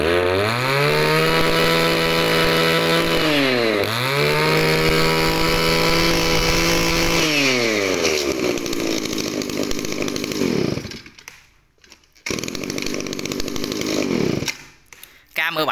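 An Echo 3600 high-power brush cutter's 36cc engine runs loud and close, revving up and down in repeated swells with brief drops to idle and a few cutouts, while someone talks over it.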